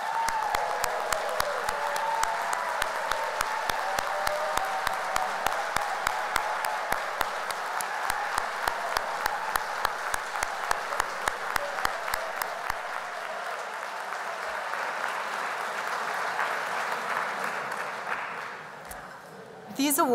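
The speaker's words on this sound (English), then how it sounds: "I'd like to ask all of the finalists to please stand so that we can give them the round of applause they so richly" An awards-show audience applauds the standing finalists for a long stretch, steady dense clapping heard from a distance with a few sharp individual claps standing out, gradually thinning and fading toward the end.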